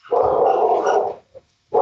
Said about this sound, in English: it sounds like the attack dogs are holding off the local police there